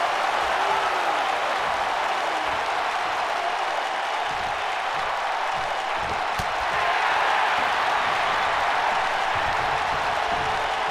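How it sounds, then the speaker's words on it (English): A wrestling show crowd in Miami, Florida roars with continuous cheering and applause, a dense, loud wash of many voices and clapping filling the arena. "What a crowd here, ladies and gentlemen, tonight in Miami, Florida."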